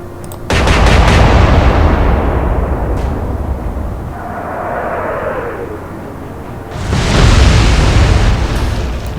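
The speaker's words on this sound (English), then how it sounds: "open fire, please. Shoot!" The battleship Warspite's naval guns fire in the Atlantic Fleet game, a loud opening blast decaying into a long rumble before a second heavy boom swells up near the end.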